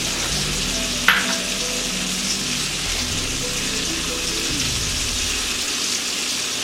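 Sage sizzles and fries in melted butter in a pan, a steady broadband crackle that holds throughout, with a single brief clink near the start.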